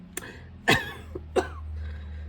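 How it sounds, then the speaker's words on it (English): A few short throaty bursts, a person clearing their throat twice with brief pauses, close to the microphone. "clear my throat"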